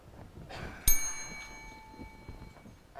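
A single bright bell ding rings out clearly at a lightning talk session in a theatre, its tone ringing and decaying for about a second and a half over quiet room noise.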